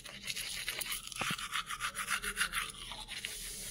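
Teeth are brushed with a toothbrush in quick back-and-forth strokes, a close, rhythmic scratchy rubbing that repeats steadily with no talking.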